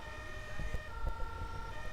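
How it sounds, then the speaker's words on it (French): Belgian fire engine siren in GTA V, a steady multi-tone wail sounding continuously over a low engine rumble and faint road thumps, moderately loud and unbroken. "On prend la bonne sirène."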